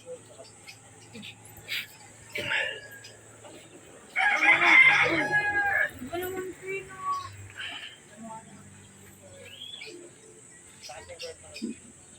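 A rooster crows at a backyard chicken coop near a small grocery, loud and close, with softer clucks, background insects and occasional bird calls around it.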